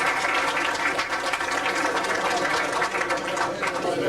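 A concert audience applauds after a band performance at a Maltese Canadian Society gathering in Toronto, a steady dense clatter of many hands sustained throughout, loud and close.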